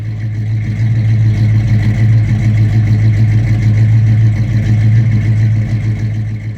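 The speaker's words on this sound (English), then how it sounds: "351 Windsor takes some cranking amps." A Ford Mustang with a 351 Windsor V8 runs close by, a loud, steady low rumble with a faintly clattering, uneven texture and no pauses for its whole length.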